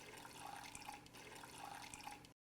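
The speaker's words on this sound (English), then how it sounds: "We put some water in our pot" Tap water runs steadily into a cooking pot being prepared for a pear compote with saffron, a continuous splashing rush lasting a couple of seconds before cutting off.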